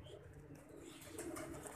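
Soft coos of Sialkoti pigeons rumble faintly in the background, a low murmuring call repeating over quiet ambient noise.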